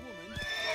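Roach, a horse in The Witcher 3, gives a short neigh with a rising whinny, and hoof clip-clops follow from about the midpoint, close and moderately loud.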